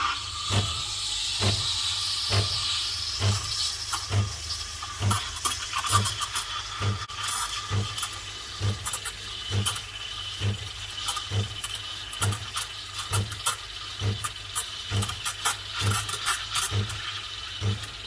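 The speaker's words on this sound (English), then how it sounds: "So that sound is the sound of the milk being stretched." A steady hissing steam wand of a Nespresso Creatista Plus stretching milk, with rhythmic gurgling pulses and clicks repeating about every half second over the continuous hiss.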